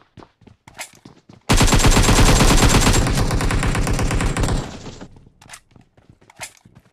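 Gunfire in the PUBG video game: a loud, rapid automatic burst lasting about three seconds, set against quiet scattered footsteps and faint ambient noise.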